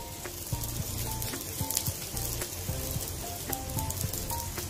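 Ghee sizzling around an aloo kulcha on a hot tawa over medium flame, a steady, fine crackling fry with soft scattered pops, close and continuous with no talk.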